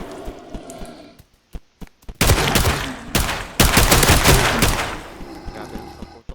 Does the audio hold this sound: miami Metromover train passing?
no